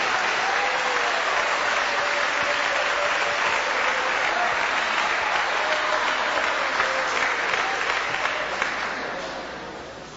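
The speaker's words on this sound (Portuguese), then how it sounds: "Assentai-vos e louvai ao Senhor Jesus com uma salva bem forte de palmas." A church congregation claps in praise during a Portuguese-language service, a dense, loud and sustained roar of many hands that holds for about ten seconds before starting to fade at the end.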